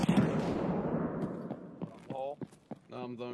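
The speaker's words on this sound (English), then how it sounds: "I'm throwing grenades at hole" Grenades explode in an online multiplayer shooter, a loud booming blast at the start decaying into rumble, followed by sharp clicks and short in-game effect tones.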